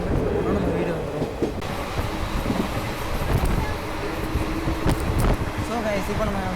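Rumbling clatter of the Tambaram–Bodi special express passenger train in motion, with steady wheel-on-rail clicks and carriage noise, and a person talking over it.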